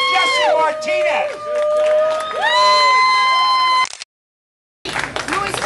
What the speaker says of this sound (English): So let's give a round of applause to Jesse Martinez.